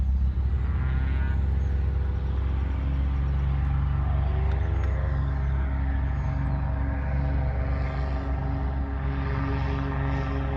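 A 2017 Infiniti Q50S with a Rev 9 high-flow cat-back exhaust on 22-inch wheels holds a steady, loud low rumble throughout, idling or cruising close by with a constant deep drone.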